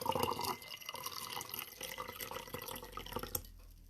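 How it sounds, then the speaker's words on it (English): Russian Caravan tea streams steadily from a pot into a cup, a continuous close splashing and trickling pour that tapers off near the end, with no talk. "I never showed you what the actual tea looks like in the cup. So let me pour some of this out"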